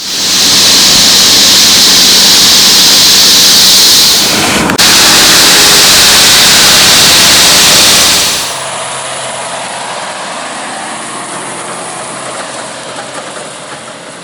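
A farm tractor pulling a grain cart during a soybean harvest in Darke County, Ohio, drones loudly and steadily from inside the cab, then drops to a quieter, even engine hum for the last several seconds.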